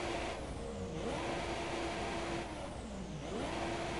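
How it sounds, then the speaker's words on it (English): An F1 car in a racing video game, sitting in neutral after crashing into the wall at the Bahrain GP, its engine revving in a few rising and falling throttle bursts, fairly faint, with no talking. "You can hear him trying to put pressure on the throttle."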